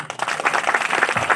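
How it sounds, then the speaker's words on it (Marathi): A short burst of audience clapping at a Dhamma camp gathering, honoring Satish Umare: quick, fairly close applause from a modest group, lasting about a second. "सतीश उमरेबद्दल एकदा टाळ्या होऊ द्या"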